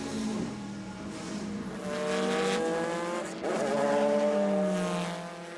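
Le Mans sports prototypes, Courage-Peugeots, and works Corvettes race past at the 2003 24 Hours, engines rising and falling in pitch as cars sweep by in close succession, loud and continuous.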